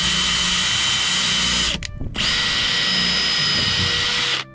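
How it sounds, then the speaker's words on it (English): A power drill bores through the gel coat of a Yamaha jet boat, whining loudly and steadily at close range, pausing briefly midway before spinning up again until it stops. "Start your drill bit in reverse when drilling into the gel coat, and then we'll just drill it all the way through here."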